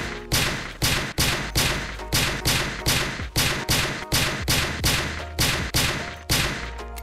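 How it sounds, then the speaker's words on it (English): Silenced gunshots fire in Project Zomboid, about fifteen sharp, evenly spaced suppressed cracks over several seconds, each with a short decaying tail, loud and close. "as good a time as any to test out the silencer"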